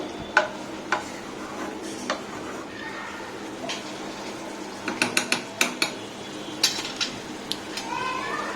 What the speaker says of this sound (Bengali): এখন অনবরত নাড়া দিতে হবে।